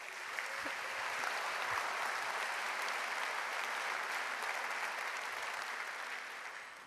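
Sustained applause from a large audience at the Sparkasse zu Lübeck 200th anniversary celebration in 2017, a dense, steady wash of many hands clapping that holds evenly throughout and tapers slightly at the end, with no speech over it.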